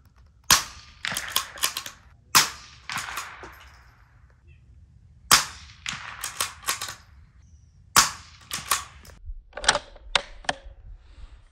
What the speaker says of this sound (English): now I'm going to shoot a 10 shot group with that same ammo with the barrel seasoned